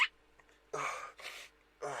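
A few sharp, breathy bursts in quick succession, like someone sneezing or mock-sneezing, each short and fairly loud with brief pauses between.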